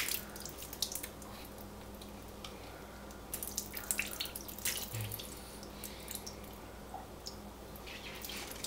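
Chunky homebrew beer wort with mint is poured, making a soft, continuous liquid trickle with faint splashes and a few gurgles close by under a low background hum.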